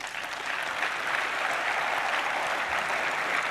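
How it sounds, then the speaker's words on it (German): Applause from a crowded hall at the Left party's European party congress, steady and sustained throughout, heard from a middle distance with no voices over it. "Applaus"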